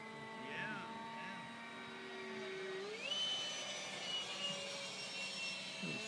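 Durafly D.H. 110 Sea Vixen RC jet with a stock motor making a low pass, a steady whining ducted-fan tone that rises in pitch partway through, with talk over it.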